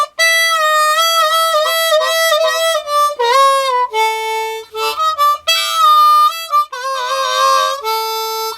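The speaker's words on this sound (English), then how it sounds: "The third trick I want to show you for the harmonica is called bending a note." Harmonica playing a melody with notes bent and sliding in pitch, loud and close, sustained tones with brief breaths between phrases, no talking.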